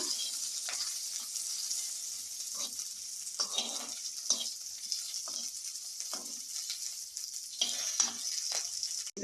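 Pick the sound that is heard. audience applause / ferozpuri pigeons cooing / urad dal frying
urad dal frying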